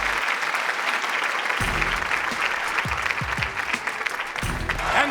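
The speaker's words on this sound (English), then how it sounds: "One more round of applause for Will Fuller." A large crowd at an awards event for Notre Dame football breaks into dense, sustained applause honoring MVP Will Fuller, with a few low voices and shuffles mixed in beneath the clapping.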